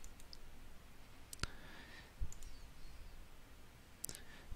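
Computer mouse clicks while installing a package in the antiX 13 Linux software installer, three or four sharp, isolated clicks separated by quiet room tone, close and faint.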